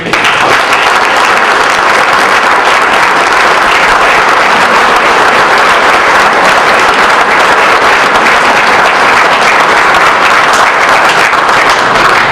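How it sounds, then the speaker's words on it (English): Loud, sustained applause from a crowd at a high school fall sports award banquet, dense clapping filling the room evenly from start to finish. "Round of applause for the booster members."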